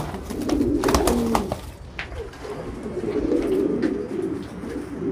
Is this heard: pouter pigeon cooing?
yes